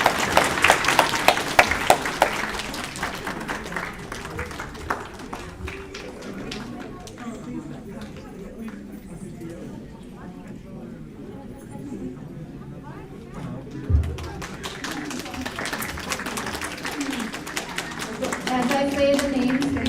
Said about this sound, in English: Can I ask everyone to clap?